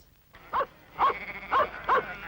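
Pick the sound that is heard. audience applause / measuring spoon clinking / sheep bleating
sheep bleating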